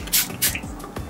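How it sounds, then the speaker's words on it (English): Milk Hydro Grip face mist sprayed from a pump bottle, three quick airy hisses in close succession, close and fairly loud. "I spray it before bed,"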